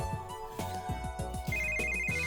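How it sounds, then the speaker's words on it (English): A cell phone ringtone sounds in the visual novel game If My Heart Had Wings, a repeating melodic electronic ring with steady tones playing over soft background music. "my cell phone rings, breaking me out of my reverie."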